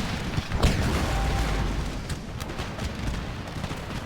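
Musket volleys in an Empire Total War battle: a rolling, rumbling fusillade of distant gunfire and booms, dense and continuous, with no talk over it.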